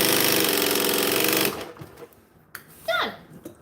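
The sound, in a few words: sewing machine quilting a quilt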